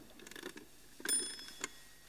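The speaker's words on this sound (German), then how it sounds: "Ich weiß gar nicht, ob der noch läutet." An old mechanical alarm clock gives a brief, weak ring, a short metallic jangle in a quiet room that fades quickly, followed by a fainter second chime.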